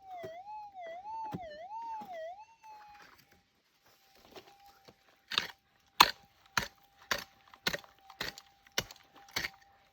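A metal detector's warbling electronic tone, growing louder over a deep target while prospecting for gold nuggets, rises and falls for a few seconds, then settles into a faint steady hum under a series of sharp, rhythmic digging scrapes.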